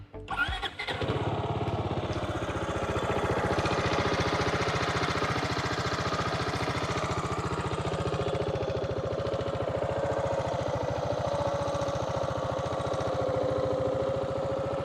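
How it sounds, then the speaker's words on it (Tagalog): A Rusi 300 maxi scooter engine cranks and catches, then settles into a steady, loud idle with an even low rumble held close for the rest of the clip. "Okay, start ko yung motor, ha."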